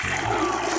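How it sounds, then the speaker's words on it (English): Three gallons of warm water pour in to be mixed with borax and boric acid, a dense, steady rush of liquid heard up close for under a second. "Now, we mix in 3 gallons of water,"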